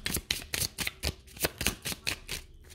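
Tarot cards shuffled by hand in a quick series of about ten crisp riffling bursts, each a short papery rush with brief pauses between, close and fairly quiet, with no voices.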